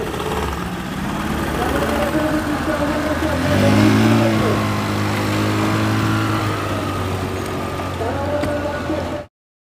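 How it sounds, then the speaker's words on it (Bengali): Several speedboats on the river run their engines nearby, a loud continuous drone that swells as one revs up midway, with people talking over it. "এখানে আপনারা অনেকগুলো স্পিড বোট দেখতে পাচ্ছি"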